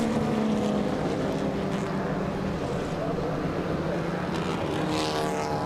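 Vintage race cars, early Jaguar sports cars among them, accelerate hard out of a corner on a racing circuit, a sustained engine roar with shifting pitch, loud and fairly close, with commentary over it.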